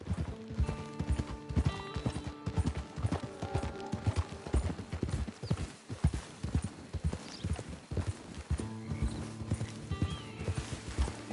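Horse hooves clip-clop steadily at a walking pace in Red Dead Redemption 2, close and continuous, with occasional whinnies, mechanical creaks and background music layered underneath.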